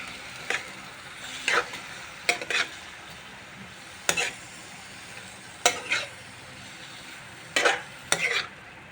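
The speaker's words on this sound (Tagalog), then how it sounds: "Ilagyan na natin ang ating pusit. Halo lang natin. Mix lang natin." Squid adobo frying in a pan, a soft steady sizzle punctuated by about nine distinct spatula scrapes and stirs in irregular clusters, close and clear with no talking.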